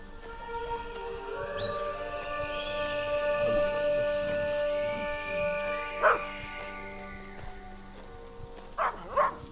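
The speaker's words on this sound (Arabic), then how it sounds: "كلب اهو." A dog inside a hotel gives a drawn-out whining howl, then several sharp barks near the end, moderately close and with no talk over it.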